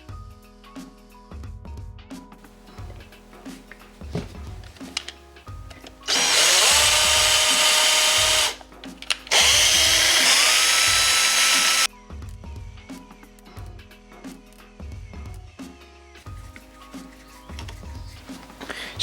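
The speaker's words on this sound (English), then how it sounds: "Now, I'm going to drill and tap some holes to hold the layers together." A power drill drills and taps holes through layered metal pieces for a hidden blade build, with two loud sustained bursts of whirring about three seconds each amid quieter tapping and handling clatter.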